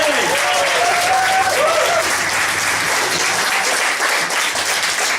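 Sustained, loud applause from a comedy club crowd for a comedian, a thick, constant wash of clapping with a faint voice heard over it early on.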